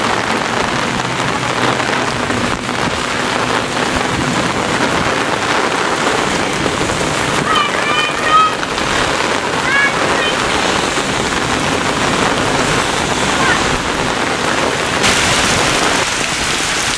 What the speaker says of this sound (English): The rain is still coming down pretty constant at a heavy rate.